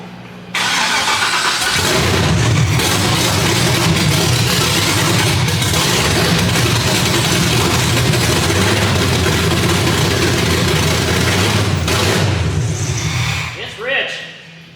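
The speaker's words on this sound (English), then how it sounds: "Gotta make V8 noise at 8 a.m. Monday" An LS-swapped V8 in a 450 hp Datsun cranks and catches, then runs loud and steady for about twelve seconds with a deep rumble before cutting off abruptly. It is close and dominant.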